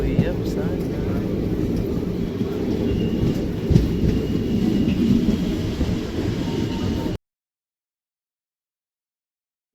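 Inside a moving train, a steady low rumble and rattle of the carriage runs loud and close for about seven seconds before cutting off abruptly into silence.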